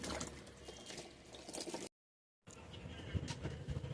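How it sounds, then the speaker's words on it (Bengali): Pointed gourds (potol) are rinsed in water with steady splashing and sloshing close by, briefly cut off by a short gap of silence before the washing continues. "এইভাবে পটলগুলো সব ধুয়ে নেব এখন আমরা"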